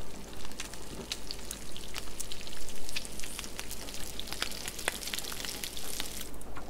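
Food cooks in The Long Dark video game with a continuous soft crackling sizzle, like frying with scattered drips and pops, at an even level throughout. No voices are heard.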